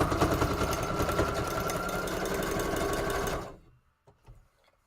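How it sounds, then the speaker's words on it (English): Sewing machine running a default zigzag stitch on paper craft material, a loud, close, steady mechanical whir for about three seconds that stops abruptly, followed by faint handling noises. "just a regular zigzag stitch on its default settings is what I'm working with here"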